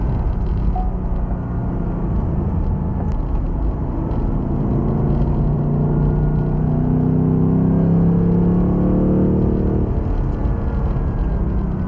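A 2026 Ford Mustang Dark Horse with a manual gearbox rumbles continuously in a deep, steady drone, swelling slightly louder toward the end as it drives on.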